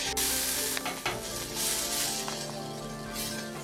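Sliced onions sizzle steadily in a hot pan for beef liver with onion, with a few spoon or spatula scrapes and light clinks as they are stirred, close and continuous with no talk.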